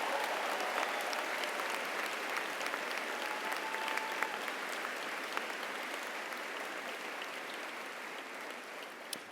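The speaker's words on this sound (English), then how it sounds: "can we just applaud all of the faculty and staff who show up every day?" A large crowd at a university commencement ceremony claps in a steady, even roar of applause, dense and somewhat distant, sustained for the full stretch with a few sharper individual claps standing out.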